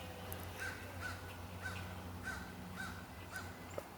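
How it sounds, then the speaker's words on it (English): A crow caws repeatedly outdoors, about six evenly spaced calls at moderate distance over a low steady background hum, with no talking. "I love crows."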